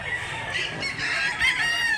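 Gamefowl at a poultry seller in Mantalungon, Cebu, give a near, fairly loud rooster crow blended with clucking across two seconds, with no one talking.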